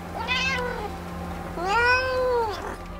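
Two drawn-out cat meows, one after another with a pause between, close and fairly loud over a low steady hum.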